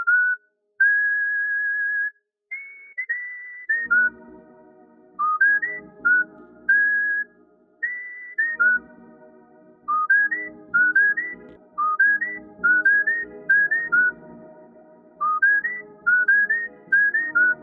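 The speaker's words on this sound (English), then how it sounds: "I found this insanely dope whistle patch from Flex and used it to accent the notes of my melody" A whistle synth patch from Flex in FL Studio plays a clean, bright melody of short rising and falling notes over a soft low backing, in a beat; no voices.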